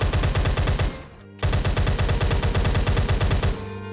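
Rapid automatic gunfire from a shooting video game, loud and rhythmic, runs in two long bursts separated by a short pause, with a quieter trailing tone at the end.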